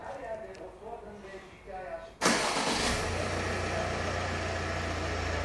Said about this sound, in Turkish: Çalıştırdınız arabayı.